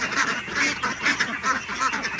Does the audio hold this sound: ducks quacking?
yes